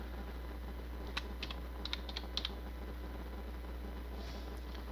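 A few light keyboard keystrokes typing a city name, spaced in a short irregular burst near the start and middle, faint and close over a steady low electrical hum.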